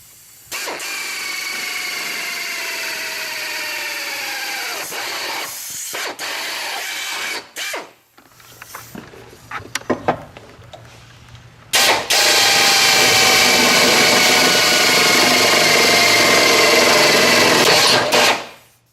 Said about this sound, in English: We'll just drill a couple of holes